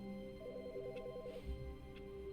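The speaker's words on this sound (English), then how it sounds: "I can hear a phone ringing." An office telephone rings in The Stanley Parable with a single faint electronic trill, heard quietly over a low room hum.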